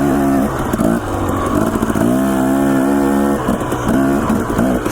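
A dirt bike ridden hard along a mountain trail in Idaho, its engine loud and close, revving up and down in uneven bursts as the rider works the throttle, with no voices over it.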